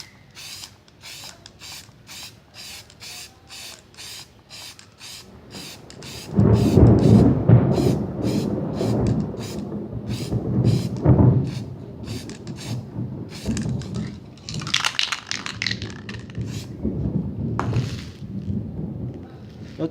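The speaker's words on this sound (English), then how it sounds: "I should be able to achieve it using samurai spray paint" Samurai spray paint hisses from a can onto EVA foam in several long, loud bursts, preceded by a rapid rattling of the can being shaken. It is heard up close, with no voices.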